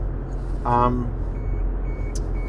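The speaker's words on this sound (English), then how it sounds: "I'll just lock this in and that'll stop the buzzer" A short harmonic electronic tone sounds once, under a second long, over a steady low engine-like rumble, with faint thin beeps afterward.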